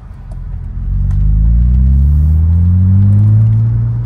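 A BMW 330Ci E46 engine revs up close and loud, its rising growl swelling and climbing smoothly in pitch as it accelerates, then holding near the top before easing slightly.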